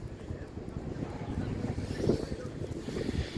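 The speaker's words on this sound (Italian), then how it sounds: "Qua fa un freddo, c'è sempre un vento incredibile." Strong, cold wind buffets an outdoor microphone after an Inter football match against Liverpool, a steady broadband roar with gusts swelling around the middle and end.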